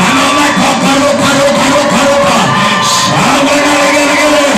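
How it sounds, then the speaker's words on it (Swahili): A loud crowd at a lively church worship gathering cheers, whoops and ululates together, the layered shouting and trilling voices rising in waves and holding continuously throughout. "Kama umetoka, shangwe na vigelegele."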